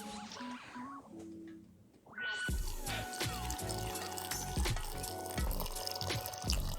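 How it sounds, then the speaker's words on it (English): Pickling brine poured from a container into a mason jar packed with sliced red onion, a steady close splashing liquid stream that begins after a quieter moment and continues with small clinks, no talking. "I will pour this into the mason jar with all the sliced onion"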